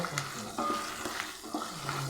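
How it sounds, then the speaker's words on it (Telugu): Oil tempering for mango rice sizzles and crackles in a pan on the stove, with soft stirring scrapes, a steady low frying hiss throughout. "తాలింపు పెట్టేసుకొని ఇది స్టవ్ ఆఫ్ చేసేసుకుందాము."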